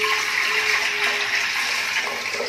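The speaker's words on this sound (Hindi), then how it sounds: "अब इसको थोड़ा घोल के कुकर के अंदर डाल रहे हैं।" A fermented sugar and yeast mixture is poured into a pressure cooker, giving a continuous splashing, gushing liquid sound close by with no talking.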